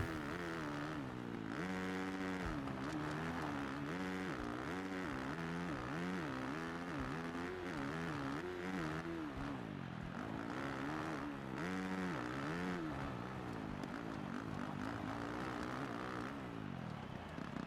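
Motocross dirt bike engine in the MXGP 2019 racing game on a muddy, rutted track, droning steadily with rising and falling revs throughout, close and continuous with no one talking.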